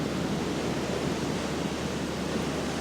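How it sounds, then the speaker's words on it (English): Ocean surf at Bells Beach roars as a broad, steady wash of breaking waves, with offshore wind adding a constant rushing noise and no other sounds. "This wave is tricky to surf with all that offshore wind."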